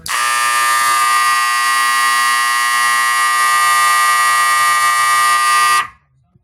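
An old 7004T fire alarm blares loud and steady with a harsh, continuous buzzing tone for about six seconds, then cuts off abruptly into silence.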